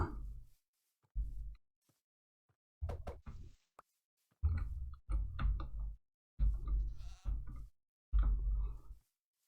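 A goat in Minecraft gives repeated bleats near a boat, several fairly loud, bleating calls spaced by silences along with a few sharp knocks, with no talking.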